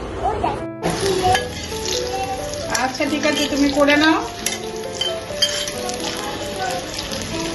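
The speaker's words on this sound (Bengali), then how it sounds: "আমার পটল ভাজা হয়ে গেল" Sliced pointed gourd (potol) sizzles steadily in a frying pan, with stirring scrapes and occasional utensil clinks, while people talk over the cooking.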